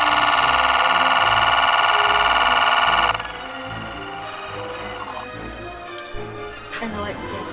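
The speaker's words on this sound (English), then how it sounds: "Gun sound." Electronic gun effect from a toy mobile command center's sound box, a loud buzzing synthetic tone for about three seconds, then quieter clicks and handling noise.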